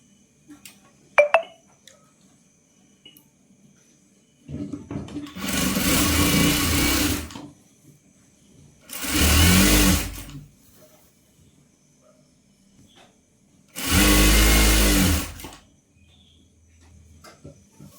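A sewing machine stitches a folded hem on a tie top in three separate bursts of rapid whirring, with quiet gaps between them and a small click near the start.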